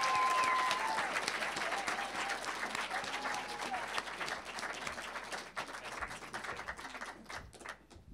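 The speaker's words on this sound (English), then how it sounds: "Clap for Duff." Crowd applause rings out at a talk, dense and steady clapping from many people that starts full and slowly thins and softens toward the end.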